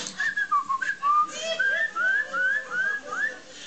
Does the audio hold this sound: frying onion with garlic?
no